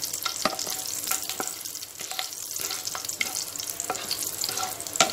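Garlic cloves, peeled, frying with fenugreek in oil for a Tamil brinjal kulambu, giving a steady close crackling sizzle with scattered sharp pops and spoon scrapes throughout, no voices.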